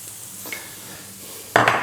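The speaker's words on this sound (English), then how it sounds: "I'm going to add my garlic, chopped up garlic, so let's just put that in there" Chopped garlic tipped into a pan of sizzling onions, a faint frying hiss with a light scrape, then a sudden louder burst of sizzling as it lands.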